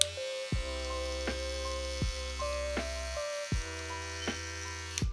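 Cordless hair clippers from a limited Soul Edition line switch on and run with a steady electric buzz, cutting off and restarting several times, each start marked by a brief click, with no talking.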